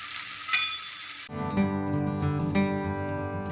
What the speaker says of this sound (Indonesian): Itu digongseng lagi. Sedikit agak matang ya, agak kecoklatan